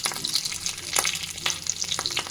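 Tempering spices sizzle in hot oil for a pomegranate kosambari salad, a crackling fry with sharp spits and pops up close, and no voices.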